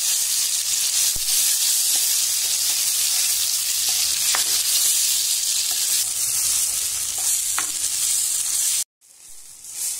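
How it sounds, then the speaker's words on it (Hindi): Loud, steady sizzling of black pepper spice paste with tomato frying in hot oil for a pepper curry, a constant hiss with occasional pops and stirring clinks, then a brief cut near the end. "देख सकते हैं मसाला अच्छा फ्राई हो रहा है।"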